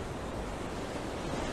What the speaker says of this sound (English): Waves are pretty big still.